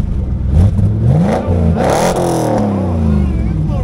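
A Corvette fitted with cheap eBay mufflers revs up and settles, its engine note climbing and falling loudly and close, with a voice talking over it.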